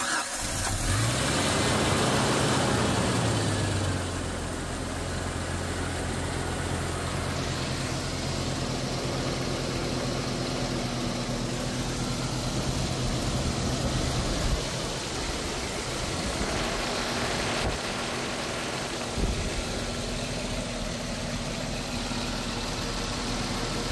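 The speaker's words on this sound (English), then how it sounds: "We are go for engine start." Jeep Cherokee XJ engine cranking and catching, then settling into a steady, even idle that runs on for about twenty seconds at close range, with no one speaking.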